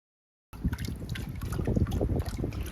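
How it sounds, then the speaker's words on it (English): A small indoor fountain trickles steadily, a close, continuous babble of running water with no voices. "Apologies for the water noise coming from my little fountain."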